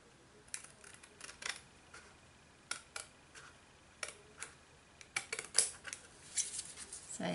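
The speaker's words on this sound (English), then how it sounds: "what I would do is just trim off the edges, just a couple of spots" Scissors snip along the edges of a paper card base in a quiet room, a string of short, crisp cuts at irregular spacing, closely miked and isolated, with a few quicker clustered snips near the end.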